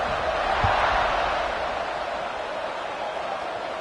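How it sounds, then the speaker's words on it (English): A college football stadium crowd at a Clemson game keeps up a broad, steady roar after a score, distant and continuous, with a single thud near the start. "this crowd is buzzing after that last score"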